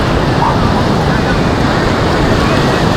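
Sea surf on Cox's Bazar beach makes a loud, constant wash of breaking water, mixed with wind buffeting the microphone, with no clear pauses throughout.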